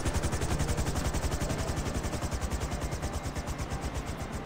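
Helicopter in the video game GTA 5 gives a steady, rapid rotor chop that stays loud and close, hovering in place with a constant thudding pulse and no talk.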